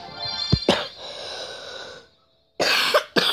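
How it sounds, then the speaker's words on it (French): A person coughs: two sharp close coughs, a pause with a breathy exhale, then two more harsh coughs after a short silence. "J'arrête pas de tousser."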